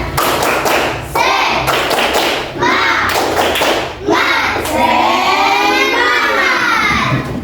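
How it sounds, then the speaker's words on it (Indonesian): A class of schoolchildren performs a spirit clap, bursts of loud, rhythmic group clapping and thumping alternating with children's chanting voices, close and lively. "Tepuk semangat."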